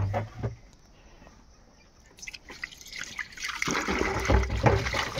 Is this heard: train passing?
no